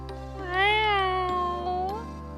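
Calico American shorthair cat in the game Purrfect Date gives a clear, drawn-out meow, close and prominent over a soft background hum.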